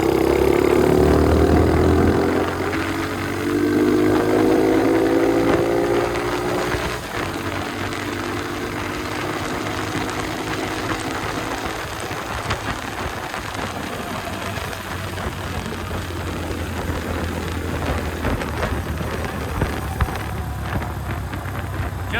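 An Icebear Champion 125cc CT70-clone motorcycle with a cush hub rides along, its engine note droning and shifting down after the opening seconds, beneath steady wind rush across the microphone.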